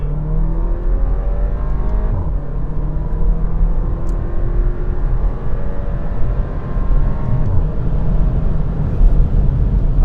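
A 2023 Porsche Macan driving in sport mode with manual shifting, its engine droning loud and close from inside the cabin, pitch rising and falling as it pulls through the gears, with no talking.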